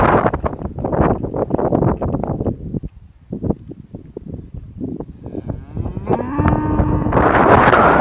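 A horned cow or bull on a farm property gives a loud, drawn-out moo close by near the end. Before it come gusty wind buffeting and rustling noises, with no talk.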